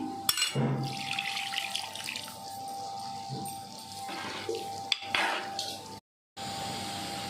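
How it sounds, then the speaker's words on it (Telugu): Water pours and splashes as it is added to a pot of tangy brinjal curry in a home kitchen, a soft continuous trickle with a few light clinks of utensils. "ఇంకా కొంచెం వాటర్ వేద్దాము"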